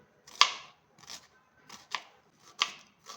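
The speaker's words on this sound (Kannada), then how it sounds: "ಈ ಥರ ಸ್ಲೈಸ್ ಮಾಡ್ಕೊಂಡ್ಬಿಡ್ತೀನಿ" Meat pieces are sliced thin with a knife for biryani, giving five crisp, separate cuts spaced about half a second apart, each a short sharp scrape on a board, close by with quiet between strokes.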